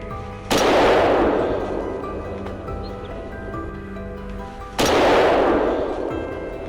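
A hunter's rifle firing at wild boar in Russia: two loud gunshots several seconds apart, each followed by a long echoing decay.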